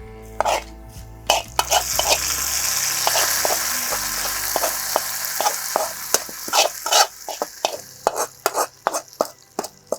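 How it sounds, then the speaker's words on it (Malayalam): Mustard seeds and onions fry in a pan for a taro curry, a steady loud sizzle with sharp pops and spoon scrapes ringing out throughout. "നമുക്ക് കടുക് വറുത്ത് ഉള്ളിയെല്ലാം വറുത്ത് നമുക്ക് കറിയിലേക്ക് ചേർത്ത് കൊടുക്കാം."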